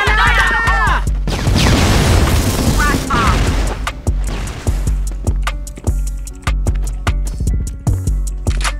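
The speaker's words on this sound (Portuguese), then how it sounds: "Granada!" A grenade goes off in a video game shooter as a loud, rumbling blast. A series of sharp, evenly spaced impacts follows, with players' voices under the action.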